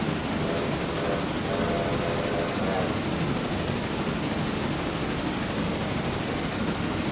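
A heavy coal train pulled by four locomotives in the Railroader simulator game, modeled on the Southern Railway Murphy branch in North Carolina, a loud, continuous rumbling roar of engines and rolling cars with a faint horn-like tone early on.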